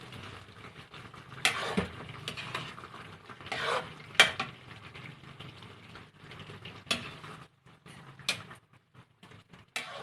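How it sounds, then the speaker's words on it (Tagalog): Chicken stew cooked in coconut milk with papaya, seasoned with salt and sugar, is stirred in a pot, giving close spoon scrapes and clinks against the metal in irregular strokes along with faint bubbling, with no talking. "Mix lang natin para mahalo yung nilagay natin na patunaw yung nilagay natin na asin at saka asukal"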